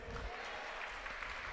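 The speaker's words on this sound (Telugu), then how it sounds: "సంతోషం ఉంటే చప్పట్లు కొట్టండి." A church congregation breaks into sustained applause, a steady wash of clapping that holds at moderate level throughout with faint voices underneath.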